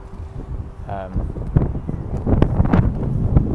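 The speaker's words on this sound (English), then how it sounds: "It's windy." Wind buffets the microphone in rough low gusts while people talk, with some rustling and a brief tonal whine early on.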